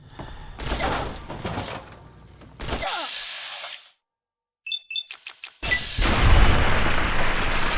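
A gas station blows up after being hit by a Tesla cannon shot in Fallout, with loud crashing booms, then a sudden silence, then metallic pings before a long, roaring blast fills the rest.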